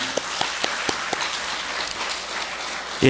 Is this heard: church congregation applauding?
yes